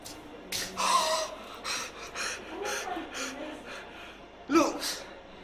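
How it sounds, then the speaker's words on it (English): A person gasps for air close up, pulling in a series of loud, ragged breaths in uneven bursts, with one sharp final gasp near the end. "Look how I gasping for the air."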